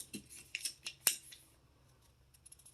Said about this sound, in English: You're gonna cut a laminate sheet down to size